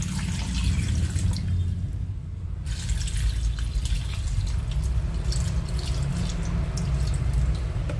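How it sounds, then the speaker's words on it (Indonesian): Water poured into a cooking pot with peppercorns and garlic, a continuous close splashing and trickling stream with a brief lull near the middle, no talk. "ini saya gunakan airnya sebanyak 2200 ml ya"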